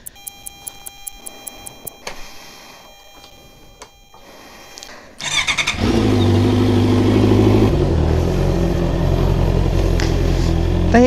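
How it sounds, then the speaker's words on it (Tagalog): Motorcycle at 4 am, first a series of electronic beeps during startup, then the engine catches and runs at a loud, steady idle with a brief rise in revs. "Mukhang tunog mabait naman ng motor natin ngayon dahil naka-silent siya."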